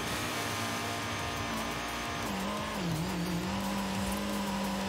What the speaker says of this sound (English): Off-roading an MX-5.